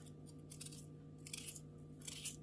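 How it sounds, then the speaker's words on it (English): A knife or kitchen scissors cut kale leaves into small pieces, giving quiet crisp snips in short bursts at a close distance. "You can cut these up smaller if you want."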